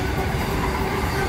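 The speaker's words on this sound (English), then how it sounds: "But this is one awesome train." Freight train rolling past close by, a loud continuous rumble and rattle of wagons with a faint steady squeal riding over the clatter, with no pauses or talking.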